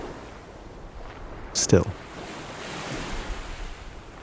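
Ocean waves wash onto a beach at sunset under wind-buffeted rumble, a soft continuous surf, with a brief spoken word partway through.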